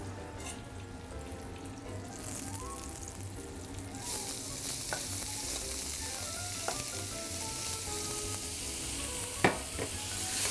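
Quail stuffing frying in olive oil and butter in a pan over medium heat, a steady close sizzle that brightens and intensifies after a few seconds, with occasional light clicks of stirring.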